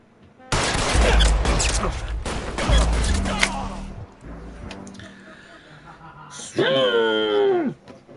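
Gunshots ring out in the detective game L.A. Noire, a burst of sharp, loud shots and booms in the first few seconds, mixed with shouting voices and a siren-like wail near the end.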